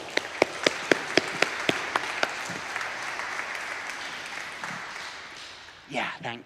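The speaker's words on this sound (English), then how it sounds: "Can we have a round of applause for Matt?" An audience applauds for a guest being invited up on stage, opening with a few sharp, distinct claps that swell into steady clapping, then fade before a voice begins speaking at the end.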